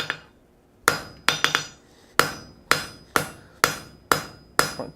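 A hammer forges 3/8 inch round mild steel on an anvil, delivering sharp, ringing metallic strikes in uneven groups, some single and some in quick doubles, loud and close with no talk.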